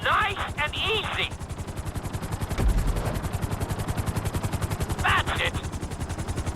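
Rapid, rhythmic rotor thumping of a helicopter in GTA V, steady and close throughout, with brief bursts of electronic tones near the start and end.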